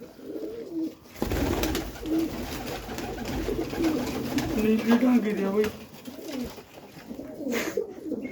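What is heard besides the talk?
pigeons cooing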